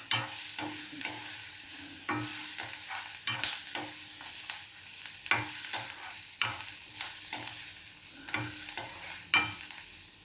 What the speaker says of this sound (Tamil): இப்படி நல்லா வதக்கி விட்ருங்க